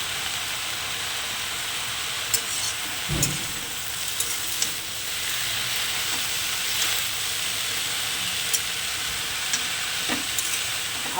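Red amaranth greens with carrot frying in a pan, a steady broadband sizzle with faint occasional clinks and stirring scrapes, continuous and close throughout.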